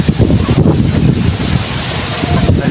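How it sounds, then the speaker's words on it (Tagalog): Strong wind buffets the microphone at the seaside, a loud, continuous roaring rush with surf mixed in underneath. The sound gusts slightly, with no clear talking. "Grabe ng hangin."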